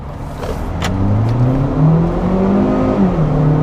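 A Hyundai Veloster Turbo hot hatch pulls away hard from a standstill, its engine note rising steadily as it accelerates, loud and close throughout with no talking.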